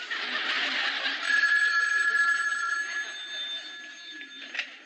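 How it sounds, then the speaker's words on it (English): A telephone rings with a sustained, bright electronic trill lasting several seconds, fairly close, set against faint room ambience in a television variety show setting. "do you want to get the phone?"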